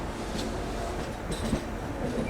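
A train rumbles steadily at the Visakhapatnam electric loco trip shed on Indian Railways, a dense, continuous roar with faint wheel clatter and no speech.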